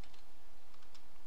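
Fingers tap out a username on a computer keyboard, a quick run of light, close clicking keystrokes at an uneven rhythm over a quiet room hum.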